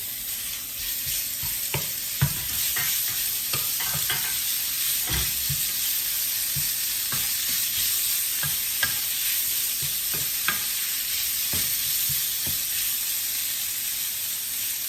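Beef strips hit a hot pan of browned garlic and cooked ginger, giving a steady close sizzle broken by scraping stirs and utensil taps, with no talking.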